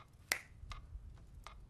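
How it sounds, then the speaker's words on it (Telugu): A single crisp finger snap rings out close and sharp in a quiet room, followed by a couple of fainter clicks. "ఇలా చిటికేస్తే నేను అడిగే ప్రశ్నలకు నువ్వు సమాధానం చెప్పాలి"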